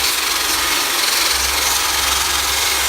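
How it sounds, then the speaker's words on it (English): A loud, continuous rasping whir of a wire brush on a power tool scrubbing across a wooden log, steady and unbroken throughout. "I have attached this wire brush on the end of this gun"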